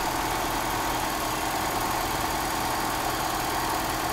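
Mercedes-Benz W123 230E engine idling close by during an idle mixture adjustment, a steady dense rumble with an even mechanical chatter that holds constant throughout, with no voices.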